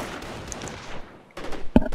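Rifle fire in a strategy video game battle, rifles against Volks on open cover: a crackle of shots under a busy battle bed, a brief lull, then a sharp, loud near report near the end.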